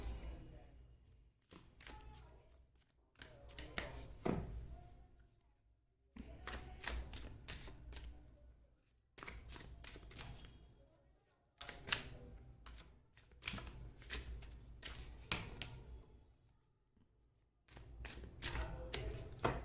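Tarot cards shuffled by hand at close range, heard as quick bursts of papery riffling clicks in several separate rounds with short pauses between them.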